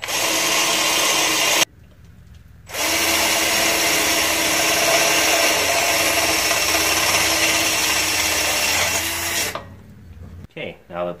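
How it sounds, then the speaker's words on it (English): A power drill whines steadily for several seconds, enlarging holes in a metal ebike frame, cutting off briefly and then running again before stopping, with clattering at the end. "let's drill the holes a little bit bigger"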